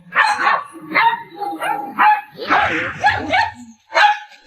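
An aggressive dog barks furiously at a dog trainer indoors, a rapid run of loud, close barks and yelps in bursts with short gaps.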